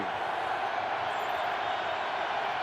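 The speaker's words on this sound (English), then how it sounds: "there's the snow, and there's the Packer crowd. As loud as it can be." Home crowd of Green Bay Packers fans roars in a windy, snowy stadium during a 2004 Lions at Packers game, a loud, steady wall of noise that never lets up across the whole stretch.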